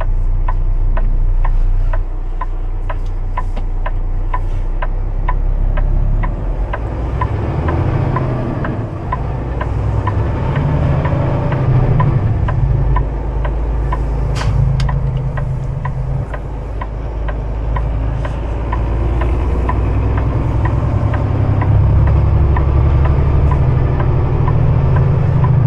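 Steady low rumble of heavy trucks idling at a large truck stop with fuel pumps and a car park, a continuous loud engine drone with faint ticking on top and no speech.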